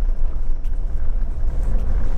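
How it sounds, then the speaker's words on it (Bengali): A car engine braking down a steep hill road near Tinchuley, Darjeeling, giving a steady, loud low rumble that continues for about two seconds with no break and no voices over it. "আর ইঞ্জিন ব্রেক মারতে মারতে যেতে হচ্ছে, তার জন্য আমার ইঞ্জিনের সাউন্ডটাও দেখো"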